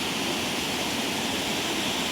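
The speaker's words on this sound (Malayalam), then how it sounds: "കുറ്റാലം തന്നെ തോറ്റുപോകുന്ന രീതിയിലാണ് ഒരു കൊച്ചു വെള്ളച്ചാട്ടം" A small waterfall gives off a close, steady rush of falling water, an even broadband roar with no other sounds.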